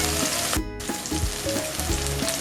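Onions fry with slit green chilies and chopped garlic in a pan of oil for a pineapple prawn curry: a loud, close, continuous sizzle broken by rhythmic scraping stir strokes.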